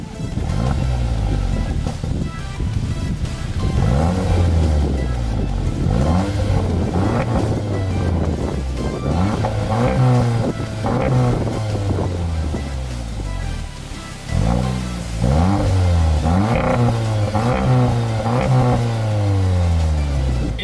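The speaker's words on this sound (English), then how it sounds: "I'll show you some videos of the exhaust anyway at the moment while it's sort of with the mid-res delete" Seat Leon Cupra 280 with a mid-resonator delete exhaust, revving hard again and again in surging waves, loud and close, with heavy wind buffeting on the microphone and no talk.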